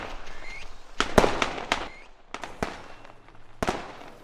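A string of firecrackers popping in the video game Way of the Samurai, in irregular bursts, sharp cracks scattered over a few seconds with quieter gaps between.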